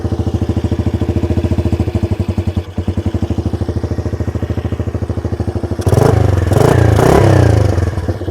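Honda ATC 125M three-wheeler, a barn find unused for about ten years, idles steadily after a choked start, its single-cylinder putter loud and close, then revs up more roughly toward the end, with no talk.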